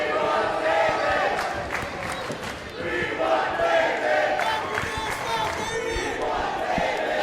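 Wrestling crowd at a Warrior Wrestling event roars and cheers steadily throughout, loud and dense, with a voice shouting over the din.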